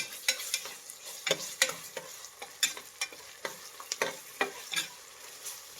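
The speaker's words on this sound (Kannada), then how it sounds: "ಇದು ಹಸಿ ವಾಸನೆ ಹೋಗೋವರೆಗೂ ಫ್ರೈ ಮಾಡಿ" Ginger garlic paste frying in a pan for Ambur chicken biryani, with a spatula scraping and tapping in quick uneven strokes over a low, steady sizzle, close and alone.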